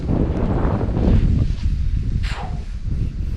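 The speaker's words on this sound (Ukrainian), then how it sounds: "тому що у нас вітер. І хороший вітер." Gusty wind buffets the microphone while fishing, a loud low roar rising and falling, with a faint rustle in the background.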